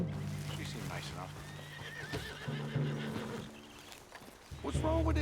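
A horse whinnies over game sounds and hooves in Red Dead Redemption 2, with people talking nearby; a second shorter neigh follows near the end.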